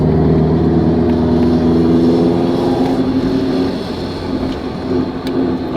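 A 2022 Honda Civic Si fitted with an exhaust cutout idles and revs loudly up close, its deep rumbling drone swelling, dipping briefly, then rising again, with no talk over it.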